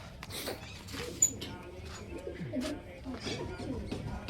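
Soft pigeon cooing rises and falls amid a busy background of voices and rustling, with one sharp click near the start.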